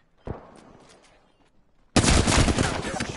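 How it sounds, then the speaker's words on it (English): Video game gunfire from enemies: a single sharp shot, then quiet, then a loud, sustained burst of rapid automatic fire close by that continues to the end. "The enemies are shooting at me."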